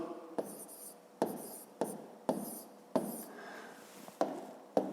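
Numbers written by hand while working a fifth-grade maths division exercise: short, scratchy pen-on-paper strokes in separate bursts, each starting sharply and fading, close and quiet with no voices.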